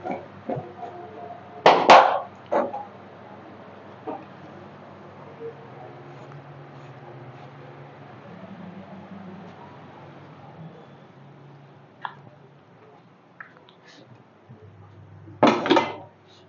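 Metal lid set onto a pan of mushrooms cooking with green chillies in a home kitchen, two sharp clanks early and late over a low steady sizzle, no voices.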